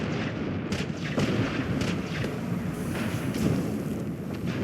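Explosive weapon blasts in the shooter game Borderlands: The Pre-Sequel, a dense run of booming impacts over a constant rumbling bed, loud and close with no pause.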